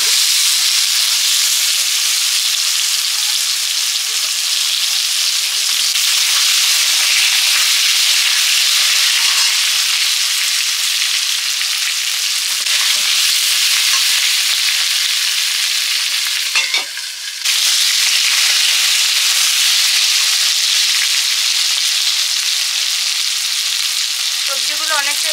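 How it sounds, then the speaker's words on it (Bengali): Vegetables fry in a pan with panch phoron tempering spices, giving a constant, close sizzle with occasional scraping stirs throughout. "সবজিগুলো ফোড়নের সঙ্গে একটু ভেজে নিচ্ছি।"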